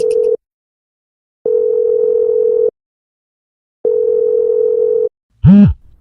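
A telephone ringback tone sounds in long steady beeps separated by pauses, then a brief voice begins at the end.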